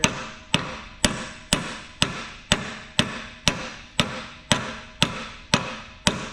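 About a dozen sharp metallic hammer blows strike an excavator cylinder on a Bobcat E45 mini excavator, landing in an even rhythm roughly twice a second, each ringing briefly before the next.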